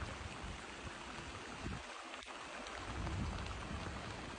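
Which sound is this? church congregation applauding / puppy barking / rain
rain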